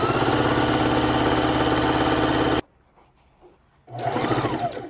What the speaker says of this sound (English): Chain stitching the strips is going to be your quickest way to sew them together.